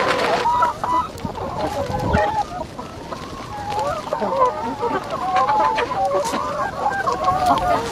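Chickens brought along by Baloch nomad women in a rural camp cluck and squawk repeatedly at close range, with busy overlapping calls running throughout.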